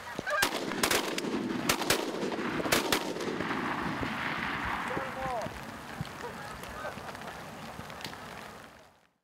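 Rapid volley of sharp shotgun blasts during a Northern Ontario goose hunt, several shots in quick succession early on, mixed with honking geese and hunters shouting over the firing.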